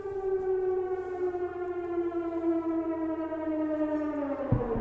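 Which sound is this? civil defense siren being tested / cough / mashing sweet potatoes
civil defense siren being tested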